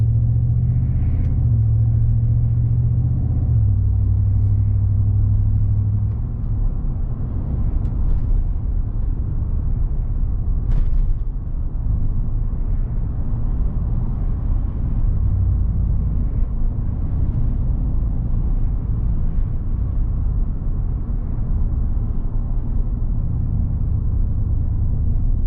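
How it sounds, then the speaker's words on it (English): A pickup truck engine fitted with a Range Technology AFM/DFM disabler runs as a steady, loud, close low rumble, with a brief tonal surge early on before it settles into an even idle. "Let's see if it still works after cutting the truck off and starting it back up."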